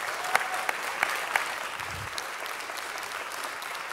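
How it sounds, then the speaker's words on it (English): Applause from a city council meeting crowd welcoming John Sayles, a sustained wash of many hands clapping in a room, steady throughout with a few sharper claps early on. "Will you please give him a round of applause as he comes up?"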